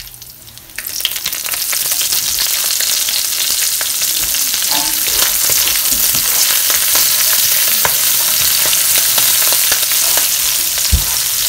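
Three dried chilies and one green chili frying in hot oil, a loud, dense, continuous sizzle and crackle that starts abruptly and stays steady, with occasional pops and no talking.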